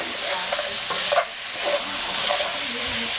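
Spare ribs cooking on medium-high heat in a pan, a continuous close sizzle with the scrape and clatter of stirring, a few sharper knocks, and no voices.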